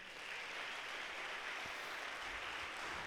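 Congregation applauding during a church service, a steady wash of clapping from many people that carries on evenly for a few seconds, moderately distant and without speech.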